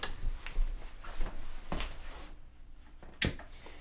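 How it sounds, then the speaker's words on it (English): Fingers tap and click on a small finished aluminum box, making a run of close, light knocks followed by a pause and one sharper final click. "since this is a hard object, it's a little aluminum box"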